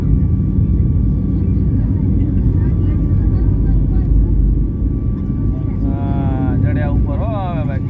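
Steady loud engine drone inside an airplane in flight, a broadband cabin roar that holds throughout, with people talking over it near the end.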